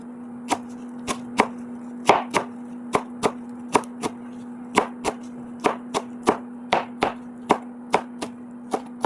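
A kitchen knife chopping parsley, onion and tomato on a cutting board for tabbouleh: a steady series of sharp, evenly spaced knocks, about twenty in all, close and crisp over a constant background hum.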